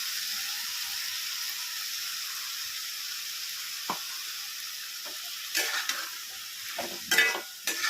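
Ridge gourd vegetable with peanut powder being stirred in a pan, a soft continuous sizzle under a few sharper scraping strokes of the spoon toward the end, close and alone.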